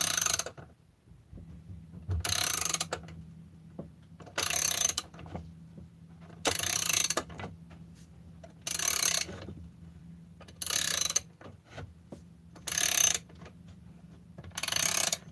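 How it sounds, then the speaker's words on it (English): A hand ratchet tightens bolts on a chainsaw crankcase, sounding as eight separate bursts of rapid clicking, each roughly a second long, repeating steadily at close range over a low background hum with no talking. "Again, nice to use a ratchet."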